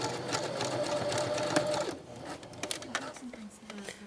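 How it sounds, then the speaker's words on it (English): A double-needle sewing machine stitches elastic on a swimsuit sample, running steadily at close range for about two seconds, then stopping and giving way to quieter handling noises and a few short bursts as someone talks. "double stitch it down on the correct side"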